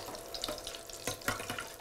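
Accras, fritters for which the stated ingredient is deep-frying oil, crackling steadily with brief louder spatters and pops, close and moderately loud, with no voices over it.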